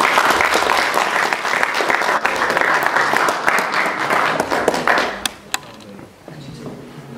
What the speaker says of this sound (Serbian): Pozdravimo još jednim aplauzom